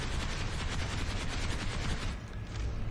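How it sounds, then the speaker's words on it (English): A weapon fired while aiming down the sights in Planetside 2 as rapid, continuous automatic fire, a dense rattling stream that dips briefly before resuming. "firing down the sight, no recoil control"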